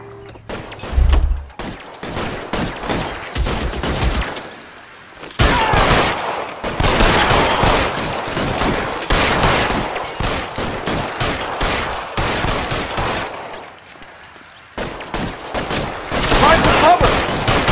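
Bursts of gunfire from a shootout in the crime game L.A. Noire, dense rattling volleys with brief pauses between them, loud and close, with a few scattered shouts in the mix.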